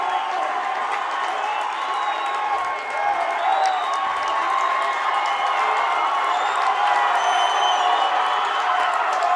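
A high school baseball crowd at a ballpark cheers and claps, rising to its feet in a sustained, loud wash of applause and whoops.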